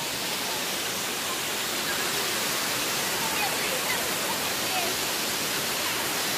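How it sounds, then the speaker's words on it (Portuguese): A wide waterfall at Cachoeira Escondida in Joanópolis, São Paulo, pours in a loud, steady roar of rushing water that fills the whole clip without pause. "essa cachoeira aqui, ela é larga, né?"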